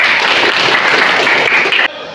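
Applause from a classroom of students fills the room, a dense, loud burst of clapping that cuts off abruptly near the end.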